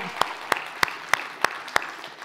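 Six sharp, evenly spaced claps ring out in a steady rhythm, close and distinct over a quiet room, as an audience applauds the organizers of a fintech event in Chile.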